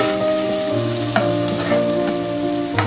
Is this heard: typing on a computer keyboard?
no